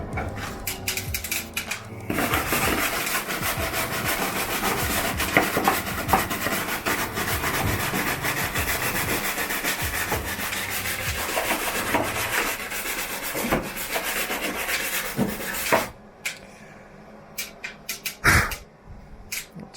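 A brush scrubbing the metal drip rail guttering of a VW T2 van under restoration: a continuous harsh rasping scrub for about fifteen seconds, close and loud, then it stops, leaving a few scattered knocks.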